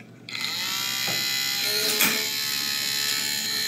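A small DC motor from a Snap Circuits electronics kit spins up with a click and settles into a steady, high-pitched whine, close and continuous, with a faint tick partway through.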